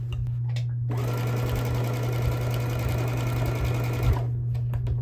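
A sewing machine stitches binding onto a quilt near a corner, a steady fast mechanical whir with a constant motor hum, starting about a second in and stopping near four seconds, close and loud.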